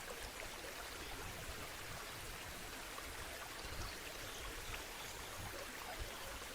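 Stream water rushes steadily near a waterfall at Curug Seribu, a continuous broadband wash of flowing water with no break, fairly close and heard alone without voices.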